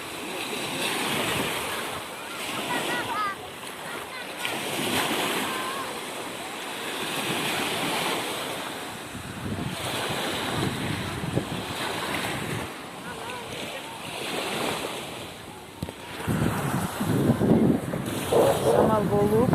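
Waves roll and break on the shore of Issyk-Kul while wind buffets the microphone in loud surges; voices come and go faintly beneath the surf.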